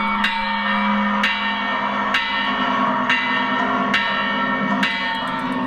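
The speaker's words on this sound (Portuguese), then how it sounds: "Aí ele toca um sininho" A bell rings at a steady, slow pace, six or seven bright, ringing strikes roughly a second apart over a constant crowd murmur at a large public square.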